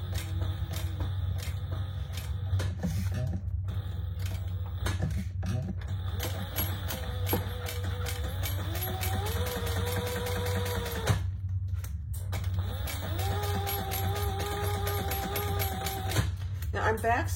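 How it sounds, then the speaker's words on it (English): A sewing machine back stitching over a slip pocket, its steady mechanical stitching rhythm running in bursts with brief pauses between runs, close and fairly loud throughout. "Now I'm back stitching over my slip pocket there"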